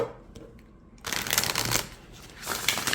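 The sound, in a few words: riffle shuffling an oracle card deck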